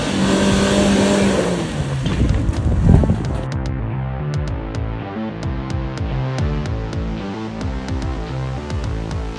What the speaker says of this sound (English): an off-roader needs proper 4x4, low range, gets a lot of torque to the wheels so they can traverse terrain like this